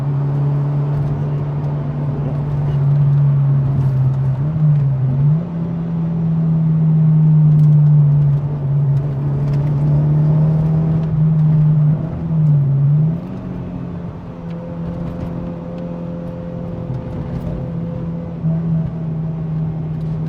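A Subaru sports car engine drones steadily from inside the cabin, its pitch rising and dipping as the car speeds up and eases off, with no voices.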